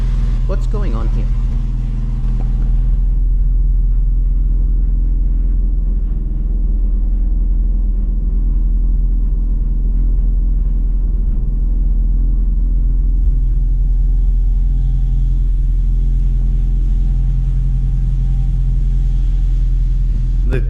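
An iconic 1980s or 1990s car with 141,000 kilometers cruises smoothly, its engine and road surface producing a steady, close low rumble beneath continuous conversation inside the cabin.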